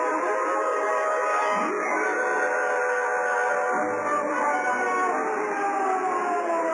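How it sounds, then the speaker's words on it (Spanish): A radio-drama alarm siren wails steadily and loudly throughout, its pitch sweeping up and down in long cycles, with no voices over it. "Escuche, la sirena de alarma."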